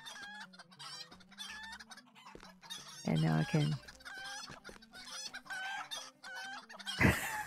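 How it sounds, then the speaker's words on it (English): A small flock of chickens clucking and crowing on a road heading up to the North Downs, with repeated close clucks, a louder rooster-like call midway and a sharp squawk near the end, while someone talks briefly. "Lots of chickens. Lots of chickens."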